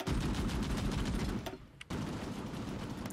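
A bombing attack in the strategy war game Hearts of Iron 4, a loud, dense barrage of blasts and rapid firing that drops out briefly near the middle before resuming just as heavily.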